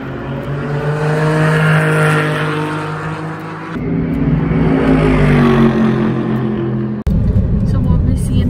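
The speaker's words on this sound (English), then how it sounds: "right now we are at the Formula One race tracks, and these cars are so loud" Loud Formula One race car engines roar steadily with rising and falling revs, droning continuously up close at a race track in Sochi, Russia, with a sharp cut partway through; voices are faintly audible underneath.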